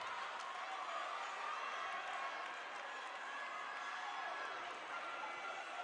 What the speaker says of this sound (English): The crowd gets into it a little bit.